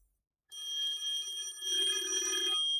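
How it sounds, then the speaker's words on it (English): A telephone rings in a private detective's office, a bright electronic bell tone that starts after a short silence and sounds in two close bursts, clear and alone. "Answer the phone, Nadine."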